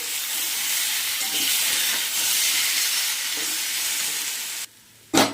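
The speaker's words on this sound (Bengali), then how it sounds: "এটা দিয়ে ভালো করে এবার কষিয়ে নিই।" Ginger, cumin and green chili paste sizzle and fry in a pan, a loud steady hiss of spitting oil with faint stirring scrapes, which cuts out briefly before a sharp burst of sizzle near the end.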